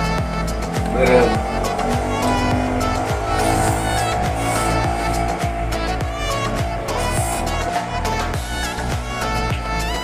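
Motor traffic streams past on a road in a steady loud rush of engines, with several vehicles passing close in overlapping waves.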